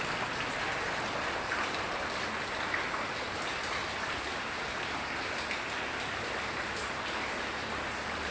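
Flood water rushing continuously through a home, rising higher, a broad, even hiss of heavy flow that stays constant throughout with no voices.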